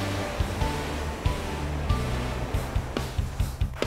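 Sea waves by a seaside temple in Busan wash in a loud continuous roar of surf, with gusty wind buffeting the microphone and occasional deeper thumps from breaking water close by.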